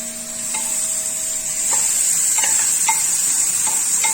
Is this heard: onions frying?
yes